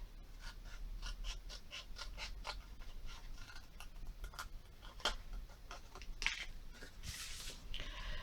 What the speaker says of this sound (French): je vais redonner un petit coup de ciseau